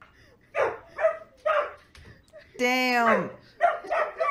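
A dog in a meme barks in several sharp bursts, then lets out one long, strained howl-like yelp, followed by more barks, loud and close with no talk over it.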